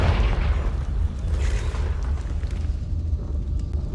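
A Confringo fire spell blasting in Hogwarts Legacy, with a deep rumbling boom that swells quickly and then rolls on as a sustained, low roar of debris and fire, loud and close, with no talking.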